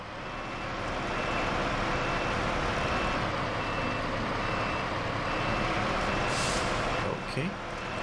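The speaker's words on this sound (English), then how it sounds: "I don't think we need that beeping on the mountain, do we?" Repeated reversing beeps from a Caterpillar CT680 truck in the snowy off-road game SnowRunner, sounding steadily over a low engine drone for several seconds before cutting out near the end.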